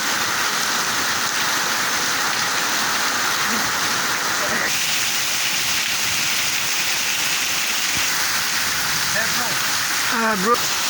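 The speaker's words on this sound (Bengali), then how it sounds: "এই মুহূর্তে ভালো বৃষ্টি হয়ে যাচ্ছে উত্তরা দিয়াবাড়ি ঢাকা এলাকায়। দেখুন বৃষ্টি পড়তেছে" Heavy rain falls in Uttara Diabari, Dhaka, as a dense, unbroken roar of drops on surfaces, loud and close throughout, with a short brighter disturbance near the end.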